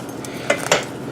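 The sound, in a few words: pork pernil being transferred into pans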